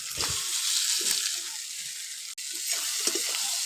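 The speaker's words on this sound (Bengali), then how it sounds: "এর মধ্যে ভেজে রাখা সবজিটা দিয়ে দেবো," Fried vegetables go into a pan with chopped tomato, ginger and turmeric for a vegetable dal, giving a continuous hiss of frying with soft stirring scrapes and clatters, no speech.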